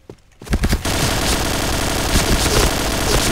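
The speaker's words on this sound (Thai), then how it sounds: "ตะกี้ปืนมันลั่น" Dense rapid gunfire from a Point Blank online shooter match, starting after a short quiet moment and then running as a continuous loud burst of overlapping shots to the end.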